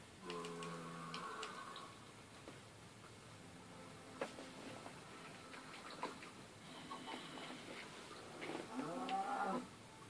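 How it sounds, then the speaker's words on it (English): A blocky Minecraft cow moos several times, its low, buzzy game-sound calls repeating in short bursts with quiet clicking game noises between them. "I love your cow."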